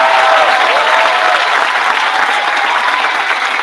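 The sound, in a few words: applause for the graduating class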